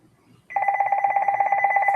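A telephone bell starts ringing after a short quiet stretch, a steady loud pulsing trill that carries on without a break, with faint background noise and no speech.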